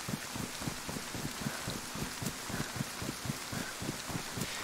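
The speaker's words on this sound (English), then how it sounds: "It's actually a good time for the rain because it gives us a little bit more cover." Steady rain falls on the modded map Valning in a video game, forming a soft continuous hiss with a faint regular low thumping underneath, fairly quiet and even, with no voices.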